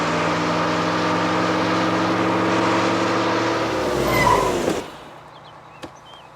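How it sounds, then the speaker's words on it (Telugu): A car races past a bus in a comedy film scene, its engine droning loudly and close with a steady tone. The roar rises briefly before cutting off abruptly into near silence. "దాన్ని ఓవర్టేక్ చేసి ఆపండి."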